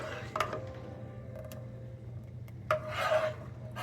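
A spoon scrapes and rubs through thickening custard filling in a pot, soft and close, with a few sharper scrapes against the pan.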